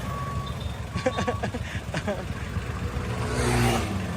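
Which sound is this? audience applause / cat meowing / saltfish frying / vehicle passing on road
vehicle passing on road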